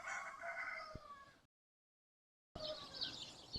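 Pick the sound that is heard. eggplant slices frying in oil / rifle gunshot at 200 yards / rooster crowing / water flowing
rooster crowing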